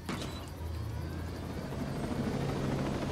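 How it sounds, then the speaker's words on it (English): A helicopter in the video game Ghost Recon Breakpoint whirs steadily and loudly, its low rotor thump and engine drone continuous throughout, with no talk. "let's utilize our little chopper here"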